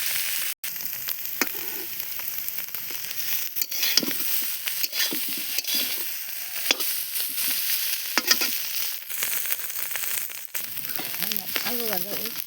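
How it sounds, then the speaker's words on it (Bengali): Potato pieces fry in hot oil in a kadai wok with a continuous close sizzle, punctuated by scraping stir strokes and occasional light clinks of a spoon against the pan. "আলু ভাজা উঠছে"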